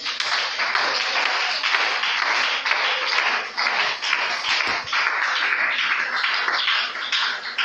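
A church congregation claps together in loud, continuous applause of many hands, steady and close, with no voices standing out.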